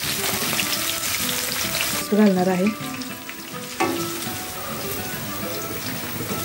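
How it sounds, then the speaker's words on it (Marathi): Sliced onion hits a hot kadhai with a loud, steady frying sizzle, briefly stirred, while someone speaks a few words over it near the start. "कांदा असा उभट चिरलेला आहे छानपैकी, तो कांदा घालून घेणार आहे।"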